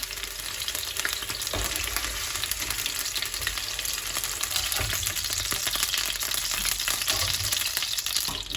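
Potatoes sauté in oil in a pan with a steady, dense sizzle and frying crackle that runs continuously throughout, with occasional stirring scrapes and no talking.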